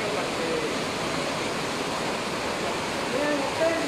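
Floodwater streaming through a street in Ecatepec on a day without rain, a constant hissing rush like a waterfall, fairly close, with a few faint voices and sounds near the end.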